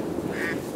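A green-headed drake duck gives one drawn-out quack, close and moderately loud over a soft, steady background.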